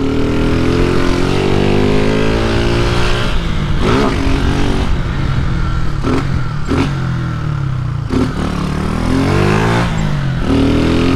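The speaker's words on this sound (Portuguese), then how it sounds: "o escapamento em si é show demais, meus parceiros" A motorcycle with a modified exhaust revs loudly in city streets, its engine note rising and falling in repeated sweeps, with sharp throttle blips and crackles between the climbs.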